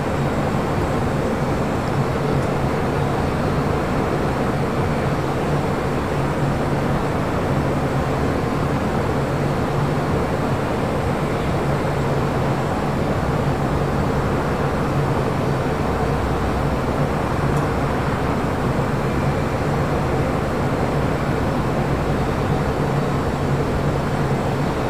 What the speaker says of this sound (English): Followed by Spirit Airlines flight 590 coming in from Houston, Texas, an A320